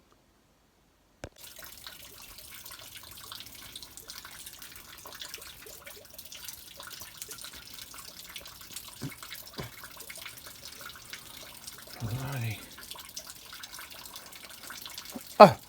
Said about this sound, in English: That sound of water, everybody. That's the buckets filling up.